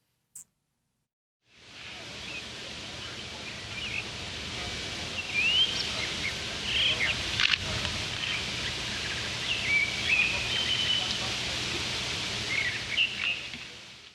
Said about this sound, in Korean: 무슨 효과음처럼 정말 새소리만 정말 들렸습니다